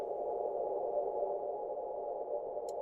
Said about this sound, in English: we have got basically like a pad from these pluck sounds